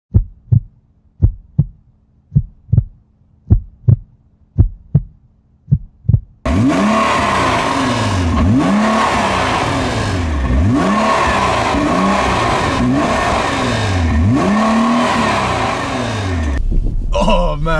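After a series of evenly spaced thumping pulses, a remote control Nissan GTR car accelerates into a loud, sustained whine with repeated rising and falling revs and a tire squeal.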